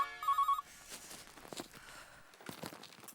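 A telephone rings with a short electronic warble at the start, followed by faint rustling, crinkling and soft footsteps in a quiet room.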